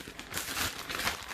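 A plastic bag crinkles and rustles as something is cut in half inside it while cooking, a brief close-up burst of crumpling noise.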